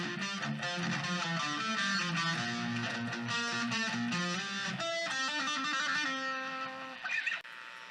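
Electric guitar plays an intro riff, a steady run of picked notes with a slide near the end, moderately loud and alone.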